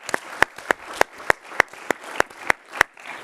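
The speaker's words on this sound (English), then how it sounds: "Give him a applause." Sparse, scattered clapping from a conference audience, with a handful of sharp, distinct claps spaced out over a few seconds rather than a full ovation.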